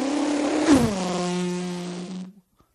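A comedian, on stage in Charlotte, North Carolina, imitates a race car engine zooming past: a steady buzzing drone whose pitch dips sharply as it passes, then holds lower before cutting off after about two seconds.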